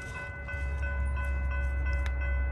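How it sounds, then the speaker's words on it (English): A Norfolk Southern freight train rolls past at Saratoga Springs, a steady low rumble with a faint whine of wheels on rail, fairly close and continuous without voices. "I guess this is the other NS Freight 31T."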